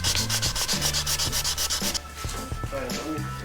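1000-grit sandpaper rubbed by hand over a motorcycle clutch lever in quick, even back-and-forth strokes, loud and close, easing into lighter, scattered scrubbing toward the end.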